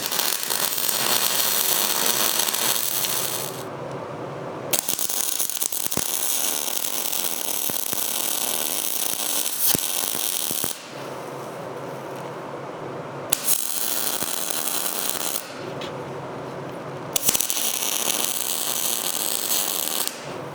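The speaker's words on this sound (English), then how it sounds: "I'm just going to weld those on there" Legs are welded onto a metal fireplace screen with long runs of harsh crackling, buzzing arc sizzle, broken by several short pauses, loud and close without speech.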